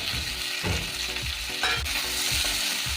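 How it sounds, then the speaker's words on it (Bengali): Green tomatoes fry in a pan with beans and ginger, a constant sizzle broken by several scraping strokes of a spatula stirring the vegetables, close and fairly loud. "এবার এটাও ভালো করে ভেজে নেব।"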